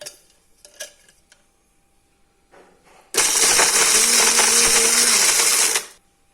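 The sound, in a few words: mixer grinder grinding cheese into powder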